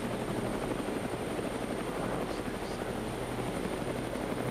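Steady, loud helicopter rotor drone passing overhead, a broad continuous whir with a faint high whine, with no voices.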